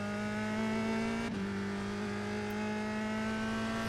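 A single-seater race car in the iRacing sim, its buzzy, angry engine holding a steady high drone with a brief dip in pitch partway through, loud and continuous with no talk over it.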